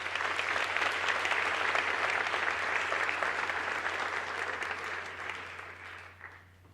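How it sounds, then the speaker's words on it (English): An audience applauds students at an evening award ceremony, a full, sustained round of clapping from a large crowd that slowly tapers off toward the end over a low steady hum. "We applaud you."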